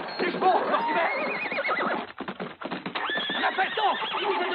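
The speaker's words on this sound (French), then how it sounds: "Vite, les chevaux, Mortimer!" Horses whinny and neigh loudly and repeatedly as their hooves clip-clop, with the action close and continuous and no pause in the commotion.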